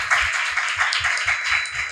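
An audience at a women's church retreat claps for the drummer Rebecca of the worship band, a dense, steady patter of many hands, loud and close, with no talking over it.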